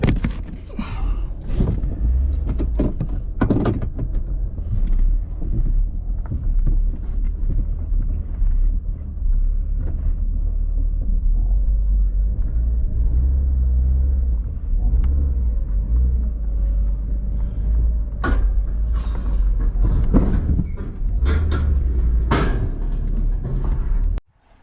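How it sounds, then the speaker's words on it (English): A Ford Taurus with its check engine light on is loaded onto a trailer, its low engine rumble steady and close under wind buffeting, with occasional knocks and thumps before it cuts off at the end. "Okay, let's get this car loaded."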